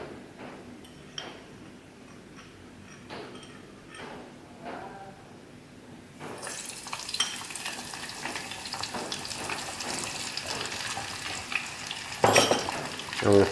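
Quiet handling clatter gives way to a loud, steady sizzle of frozen crispy spicy chicken deep frying in hot oil, continuous and close, with occasional pops.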